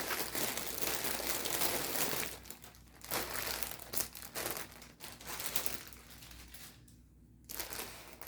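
A plastic bag crinkles and rustles continuously and up close as cross-stitch canvases are taken out of it, with irregular crackling bursts.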